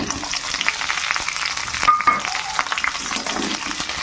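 Garlic, chili and chopped onion frying in hot oil for a leafy greens dish, a loud, close, continuous sizzle broken by stirring scrapes.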